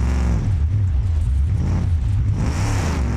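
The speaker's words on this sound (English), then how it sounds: "at least the engine sounds cool from the, you know, the big exhaust pipes right there" Loud, steady car engine rumble with a deep exhaust note from a rear-wheel-drive vehicle with big exhaust pipes in BeamNG.drive, droning continuously with slight rises and dips in revs and no talk over it.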